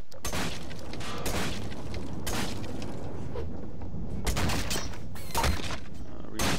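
Bursts of SMG fire in Gmod Zombie Survival, loud repeated volleys separated by short gaps, with game noise and some voices mixed in.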